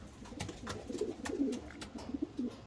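Young racing pigeons from mixed Vanderbilk lines coo softly inside a training box, with repeated low throaty burbles and a few light flutters, close and fairly quiet.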